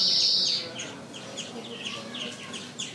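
A seven-day-old canary chick gives a quick series of thin, high chirps up close, following a brief steady tone at the start, with faint voices in the background.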